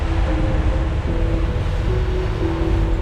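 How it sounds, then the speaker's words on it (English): Continuous rushing surf breaking across a harbour entrance, steady and loud, with a low boat engine drone running underneath and no talking. "Waves are breaking across the entrance now."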